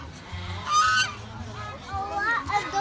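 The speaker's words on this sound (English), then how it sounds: "and gooses." Geese honking nearby on a farm among bunnies, chickens, pigs and goats, a few loud, nasal calls in quick bursts over a low background murmur.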